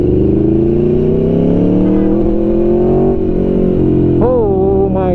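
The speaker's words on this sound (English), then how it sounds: "God, this bike wants to go fast." Aprilia Tuono V4 Factory 1100 motorcycle accelerating hard, its engine note rising steadily and loudly close up for several seconds, then a brief dip and another quick surge near the end.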